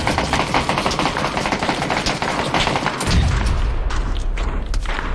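In the video game PUBG, a grenade detonates with a deep boom and rumble about midway, following a stretch of dense, crackling gunfire that continues throughout.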